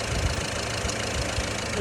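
Diesel car engine idling steadily up close, a low, even knocking rumble; the car smokes heavily and has its emissions equipment cut out.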